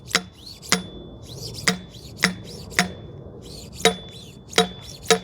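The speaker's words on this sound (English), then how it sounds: "now we can drive the oil seal" A new oil seal is driven into a motorcycle fork leg, nine sharp, regularly spaced metallic taps with ringing tails, close and clear, with no talk.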